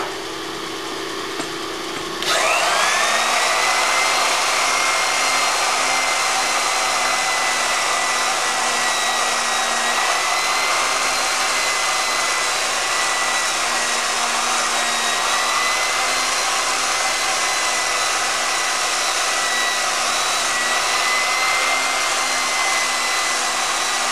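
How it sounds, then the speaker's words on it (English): A crankshaft polishing machine spins up and works the journals of a Mazda MX5 crankshaft, a steady high whine with a low hum starting abruptly after a quieter opening and holding evenly to the end. "when we polish the crankshaft, we're generally taking off 1 or 2 tenths"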